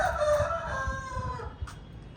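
A rooster crows loudly once, a long drawn-out call that trails off, with low rumbling background noise and a brief cluck near the end.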